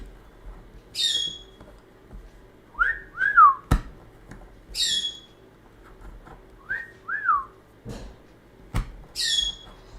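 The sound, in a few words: pet birds mimicking smoke alarm chirp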